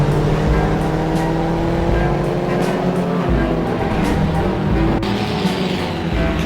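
Race cars, among them a repaired Gremlin X, roar around a track in a small-class event, with several engines layered in a dense, continuous drone and occasional passing swells.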